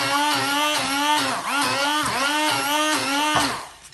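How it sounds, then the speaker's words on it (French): A kitchen blender mixes oats for about 30 seconds, running loud and close with a harmonic motor whine that wavers rhythmically as the contents churn, then drops off near the end. "Je vais mixer juste 30 secondes."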